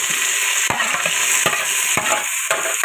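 Carrots, cashews and tomato frying in a pan for chicken biryani: a loud, steady close sizzle broken by a few sharp stirring scrapes, with no talk.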